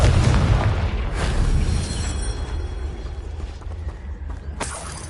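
A Confringo spell explodes in Hogwarts Legacy with a loud close boom and crackling burst that decays over a few seconds, followed by a second sharp impact near the end.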